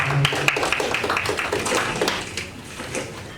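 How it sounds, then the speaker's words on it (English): Audience applause at the close of a panel talk on startup growth hacking and digital marketing, a dense steady patter of many hands that fades slightly toward the end, with no voices over it. "thank you for listening to us and a round of applause"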